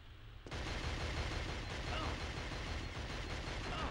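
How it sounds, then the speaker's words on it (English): Gunfire in the PS2 shooter Killzone, starting abruptly after a half-second of quieter game ambience and continuing as a dense, sustained rattle of shots at a steady loud level, with a voice talking over it. "Follow the sound of gunfire."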